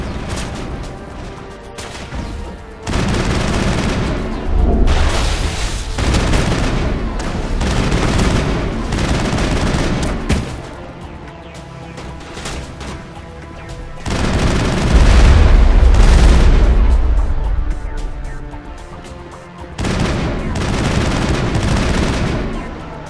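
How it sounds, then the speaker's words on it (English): A large gun booms repeatedly on Virmire in the Mass Effect game: heavy, loud shots and blasts roll in waves across the whole stretch, with rumbling low-end peaks and busy combat noise between them. "There must be a way to shut that gun down."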